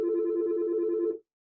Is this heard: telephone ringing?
yes